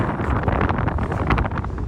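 A strong, steady roar of wind buffets the microphone beside a 2024 BMW i5 M60, loud and close, with rushing gusts throughout and no voices.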